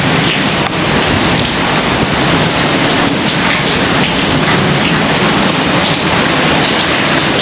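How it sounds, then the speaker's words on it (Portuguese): Heavy rain pours down in a dense, continuous hiss in a town in Arambaré, Brazil, loud and close, with no voices over it. "Começa agora a chover, nem vocês estão vendo aí."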